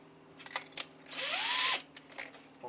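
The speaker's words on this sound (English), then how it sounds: "See if we can drill through there." A sharpened power drill bites into a broken-off bolt in one short, close burst, its whining pitch climbing, with quieter mechanical clicks and scrapes before and after.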